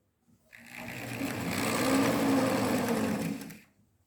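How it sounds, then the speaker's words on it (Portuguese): A sewing machine stitches bias binding onto a fabric bag holder, running in one continuous, close, whirring burst of about three seconds that swells and then stops, with no talking. "bater uma costurinha na minha primeira dobrinha aqui"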